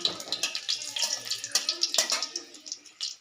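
Dried red chillies dropped into hot oil for semolina upma crackle and sizzle in a dense, hissing spatter. Small pops rise and fall close by with no pause.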